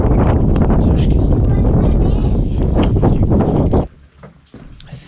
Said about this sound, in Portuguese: Tá frio, cara, que vento gelado aqui.